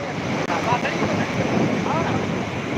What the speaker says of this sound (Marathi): लय लय जोरात वारा आहे